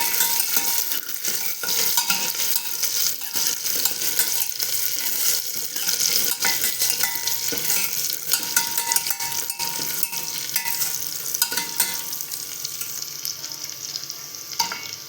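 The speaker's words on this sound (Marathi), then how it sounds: "त्यातच आपण टाकते आलं लसूण मिरचीचा ठेचा" Steady sizzling of ginger, garlic and chili paste sautéing in a pan with frequent stirring scrapes, continuous and fairly close, no voices.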